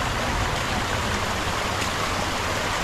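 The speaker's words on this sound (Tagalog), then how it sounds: "Buti na tayo nakita dito ng sapa." A creek flows in a steady, loud, close rush of water with no breaks and no talking.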